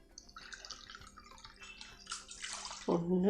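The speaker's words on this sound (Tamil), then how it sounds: "இதை வாஷ் பண்ணி எடுத்துகிட்டு வந்துட்டு பார்க்குறேன்." Roasted ingredients for sweet pongal being rinsed in water, with drips and splashing sounds building up to a louder, close pour of water near the end.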